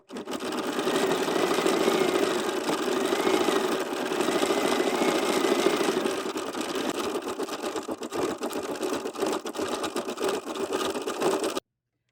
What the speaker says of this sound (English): So now we're ready to do the cover stitch.